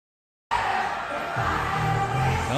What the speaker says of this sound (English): JoJo Siwa draws huge crowd at Chicago.